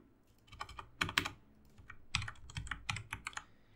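Fingers tap a computer keyboard close up during a Laravel coding session, a few quick clustered keystrokes for a Ctrl X shortcut, soft and crisp with short pauses between bursts.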